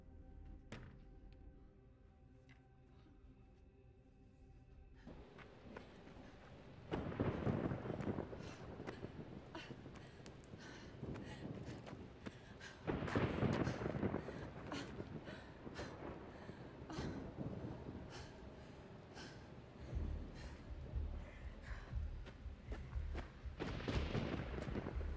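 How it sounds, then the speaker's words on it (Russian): Approaching thunderstorm with thunder rumbling, several deep rolling booms and crackling claps rising out of quieter stretches, with a low continuous rumble building toward the end, no voices. "Увы, гроза приближается."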